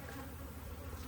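A steady, faint buzzing of honeybees at an open hive on a summer evening drones on continuously, with no other sounds standing out.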